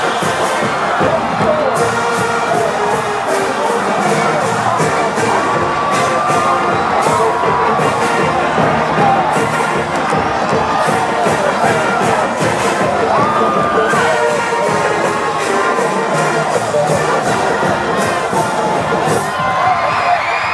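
A packed football stadium crowd roars and cheers after an overtime win in a high school rivalry game, a loud, continuous wall of shouting and whooping with scattered sharp claps and bangs, sustained throughout.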